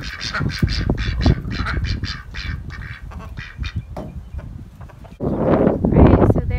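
Poultry calling in a vegetable garden, repeated short nasal squawks in a busy rhythm, fairly close and loud, with a louder burst of flapping or scuffling near the end.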